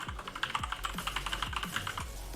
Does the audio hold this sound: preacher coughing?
no